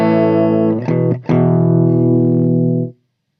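Sustained clean electric guitar chord through an amp, without the TC Electronic Röttweiler distortion, briefly re-struck twice, ringing bright and full before cutting off abruptly into silence.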